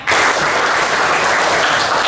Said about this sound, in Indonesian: Tepuk satu, tepuk dua, tepuk tiga, tepuk banyak.